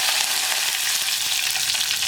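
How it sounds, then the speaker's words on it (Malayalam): Mustard seeds splutter and crackle in hot oil in a pan, a dense, continuous sizzle of tiny pops heard close up with no voices. "നമുക്കിതിലേക്ക് ആദ്യം കടുക് ചേർക്കാം. കടുക് പൊട്ടി കഴിയുമ്പോൾ"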